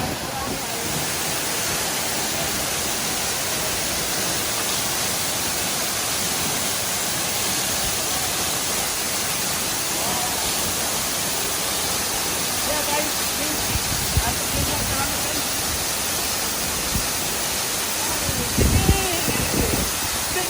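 Labuhan Kebo waterfall in Bali, a steady broadband roar of falling water close by and loud throughout, with a few faint bumps near the end.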